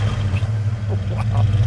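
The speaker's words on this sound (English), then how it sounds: "Go ahead, give it a rev. That sounds like a 460." A Mercury Ranchero's 460 V8 rumbles close by in a deep, steady low growl, the revving swelling slightly toward the end of the short burst.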